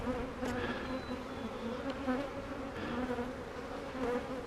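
Dense honeybee buzzing swarms steadily around an open nuc hive, a close, continuous drone with shifting layered tones and no talk over it.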